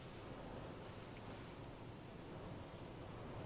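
Steady wash of modest ocean surf heard from inside a car, with wind rushing over it, a continuous broadband roar and no distinct breaking crashes.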